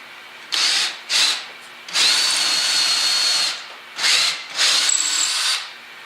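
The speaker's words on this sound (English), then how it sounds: "Drill those holes." A power drill whines in several bursts while drilling dowel holes in a miter joint plate, short runs and one longer stretch, close and loud with brief pauses between holes.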